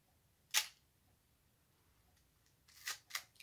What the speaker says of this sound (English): I just love the feel of the shutter release and the sound of it